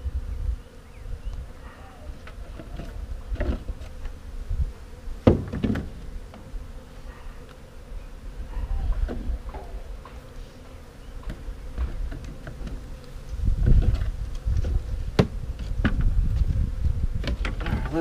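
Honeybees buzz continuously in a hive hidden behind a brick wall, a dense close drone with scattered louder passes of individual bees and occasional knocks.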